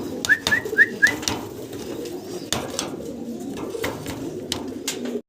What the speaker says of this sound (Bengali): এখানে আছে আরও এক জোড়া ড্যানিশ কবুতর